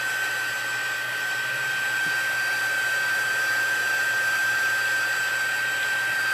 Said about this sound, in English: I'm just going to hit it with the heat gun here to kind of dry it out so we can keep moving.